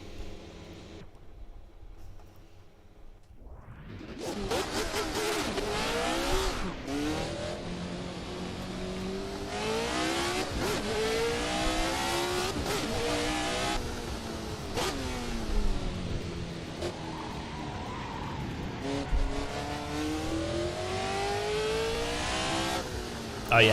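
A 1970s Formula 1 car on slick tyres in a sim racing game, its engine bursting in at about three seconds and then revving hard for the rest, pitch climbing and falling through gear changes, loud and close with brief tyre squeals.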